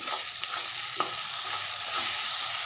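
Chopped tomato frying with onion, nigella seeds and green chillies in a pan, giving a steady close sizzle with a few soft stirring scrapes, no voices.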